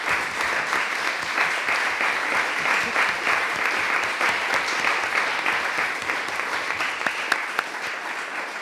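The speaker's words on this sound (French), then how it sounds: "je pense qu'on pourrait peut-être applaudir un petit peu Madame Dozias." Sustained applause from a gathering at a municipal council meeting, dense steady clapping filling the room for several seconds with no voices over it.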